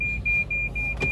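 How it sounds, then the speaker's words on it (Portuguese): A Fiat Cronos Precision's door shuts with a single dull thud near the end, while a steady high warning chime repeats inside the car the whole time. "Deixa eu até encostar aqui a porta."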